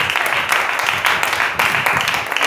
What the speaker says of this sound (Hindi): क्या ताली दे सकते हैं?